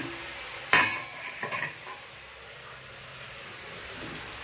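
Pointed gourd (potol) drops into hot oil in a pan with a sharp burst of sizzle, followed by a few utensil scrapes and a low, fading fry.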